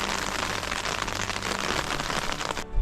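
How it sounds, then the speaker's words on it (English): Dense, steady rain patters on a taut tent fabric close by in the mountains, a continuous hiss of drops that stops abruptly near the end. "As you can hear, it's raining"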